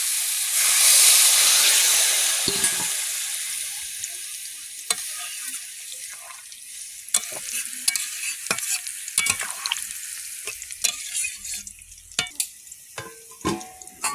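Water poured into a hot frying pan makes a loud burst of hissing steam that fades, followed by scattered spoon scrapes and clinks.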